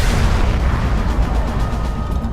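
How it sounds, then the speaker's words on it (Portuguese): A colossal supernova explosion rendered as a sound effect: a loud, continuous deep rumbling roar with a heavy low end that holds steady for the full stretch, with no voices. "A supernova é a explosão colossal de uma estrela no fim da vida."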